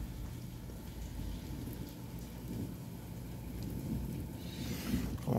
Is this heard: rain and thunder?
yes